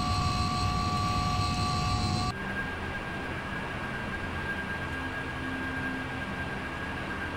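An Airbus jet engine drones in Microsoft Flight Simulator during a coastal flight from Nigeria to Gabon, a steady broadband roar with faint whining tones, continuous and fairly loud, shifting slightly in pitch after a couple of seconds.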